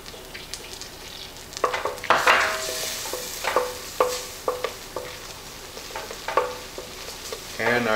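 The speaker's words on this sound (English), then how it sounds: "we're going to put our flour in there and make like a roux." A roux of flour and melted butter sizzles in a pan, with a soft frying hiss and repeated scraping, clicking stir strokes at an irregular rhythm, close by.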